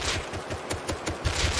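A semi-automatic rifle in Rust fires a rapid burst of loud, close shots in quick succession, sharp cracks repeating steadily with no talking.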